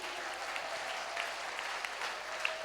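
A church congregation claps steadily after a choir ministration, a dense and even wash of applause that lasts throughout.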